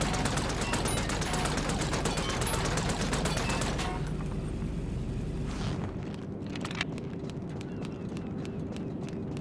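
A machine pistol fires in GTA Online during a drive-by, with rapid, dense automatic bursts over engine rumble that cut off midway, followed by a few scattered shots and a faint lingering hum.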